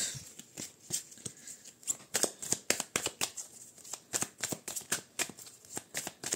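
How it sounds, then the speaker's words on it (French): A deck of tarot cards shuffled repeatedly during a card reading: a steady run of crisp, close riffling snaps, each burst quick and sharp, with no talking. "Oula, j'ai beaucoup trop de cartes là."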